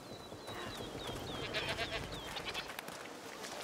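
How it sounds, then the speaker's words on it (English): Goats bleat several times in A Plague Tale: Requiem, a few rising calls repeating over a soft outdoor village backdrop, faint and moderately near. "What's over there? Goats!"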